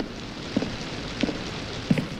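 Steady rain in the horror game White Day: A Labyrinth Named School, a soft continuous wash with three brief louder drips or thumps spaced evenly through it, with no talking.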